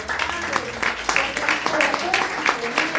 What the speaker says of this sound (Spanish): Démosle un aplauso a